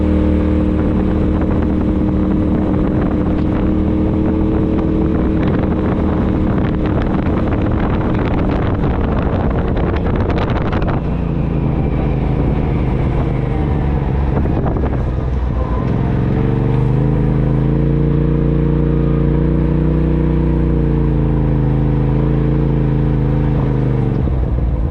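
An off-road vehicle is driven with a loud, steady engine drone and heavy wind buffeting the microphone throughout, the engine pitch dipping and rising as the ride goes on.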